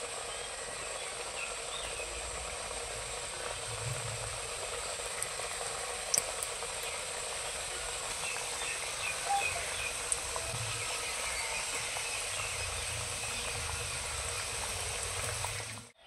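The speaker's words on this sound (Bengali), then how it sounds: "এখন এগুলোকে আমি ভেজে নেব" Pieces of kotkoti dough deep-fry in oil with a soft, even bubbling hiss that stays constant and fairly faint, with a few tiny clicks and no voices.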